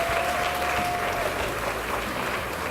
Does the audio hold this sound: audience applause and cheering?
yes